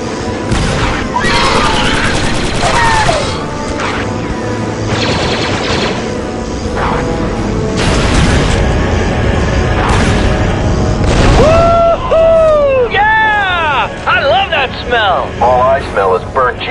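Booming blasts and bursts of weapon fire in a Star Wars–style battle video game set around Geonosis, loud and layered with engine and laser-like effects, while voices speak over the action.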